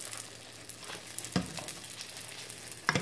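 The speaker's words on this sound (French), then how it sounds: "on commence à mettre l'huile par-dessus pour que ça gonfle" Algerian sfenj doughnuts fry in hot oil, giving a close, steady sizzle and bubbling with a couple of sharper pops and crackles.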